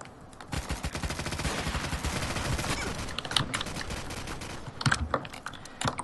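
Rapid automatic gunfire in the shooter game Trouble in Terrorist Town, dense bursts of shots for several seconds, then scattered louder single cracks near the end; no speech.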